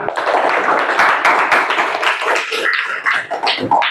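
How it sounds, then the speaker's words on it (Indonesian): A classroom audience claps for a student named Sakinah: a dense, continuous patter of many hands, fairly close and steady for about four seconds, with small fluctuations in intensity. "tepuk tangan untuk Sakinah"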